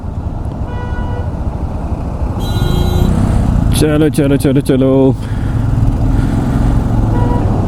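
A convoy of motorbikes riding towards Leh, engines rumbling loudly and continuously up close, with horn toots partway through and someone shouting over the traffic noise.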